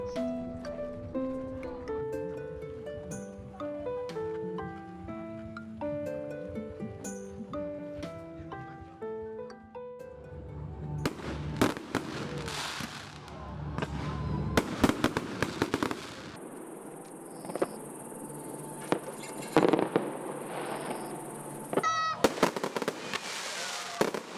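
Music plays at first, then fireworks burst and crackle repeatedly in loud, irregular volleys over Gungnamji pond at a summer night festival in Buyeo, with some background noise.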